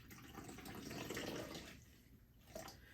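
Sparkling wine, such as prosecco or Asti, is poured into a cocktail glass, giving a steady close-up liquid rush that thins and fades, followed by a brief fizzy splash near the end.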